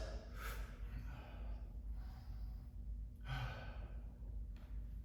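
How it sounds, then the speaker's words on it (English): Several slow, deep breaths taken between sets of a bodyweight workout, each exhale a soft airy sigh close to the microphone, spaced a second or two apart in a quiet room. "Take a couple nice deep breaths"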